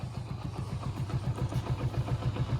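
A motorcycle engine idles steadily with a rapid, even low thumping rhythm, close and continuous throughout.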